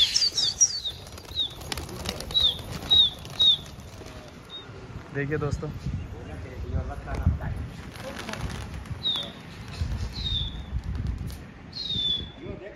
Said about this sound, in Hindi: ये सारे के सारे उड़ा दिए अंकल जी ने कबूतर